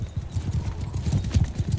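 Horses galloping in the Mount & Blade 2 video game during a battle with horse archers, a quick continuous clatter of hooves drumming along at close range with no voices.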